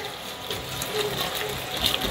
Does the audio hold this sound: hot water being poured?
yes